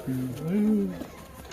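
A single giribaz pigeon gives a soft, gliding coo lasting about a second, close and fairly faint, followed by quiet background.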